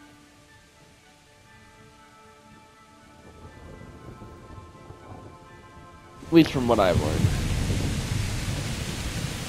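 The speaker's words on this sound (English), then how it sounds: "It's still raining?" Rain and rumbling thunder in the medieval game Kingdom Come: Deliverance, with a loud thunder crack midway swelling into steady, heavy rain noise; someone speaks briefly early on over a quieter stretch.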